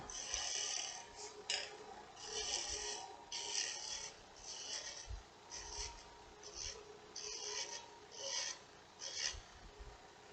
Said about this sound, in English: So I'm going to scrape that up, clean that up again.